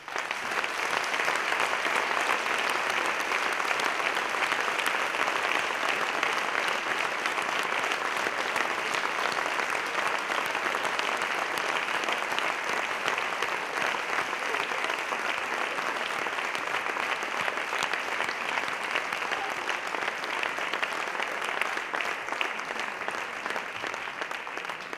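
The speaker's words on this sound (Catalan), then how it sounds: "demano un aplaudiment immens per tots els que estem aquí" Sustained audience applause fills a hall at a 40th anniversary commemoration ceremony, a dense, even wash of clapping that holds steady and loud throughout, with no voices rising above it.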